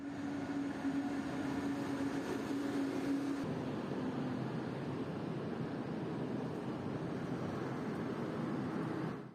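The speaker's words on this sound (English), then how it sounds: "the train just pulled into the station" A low steady rumble of a train on the Laos–China Railway rolling slowly into a station, with a humming tone that drops off partway through, broad noise lingering as it eases in.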